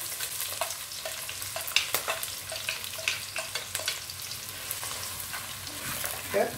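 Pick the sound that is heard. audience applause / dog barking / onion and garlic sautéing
onion and garlic sautéing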